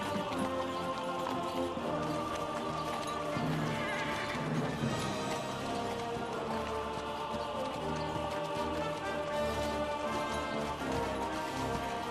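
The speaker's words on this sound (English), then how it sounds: "Why am I on this horse?" A horse whinnies and its hooves clop in the medieval video game Kingdom Come Deliverance 2, set against a dense, continuous layer of game music and ambience.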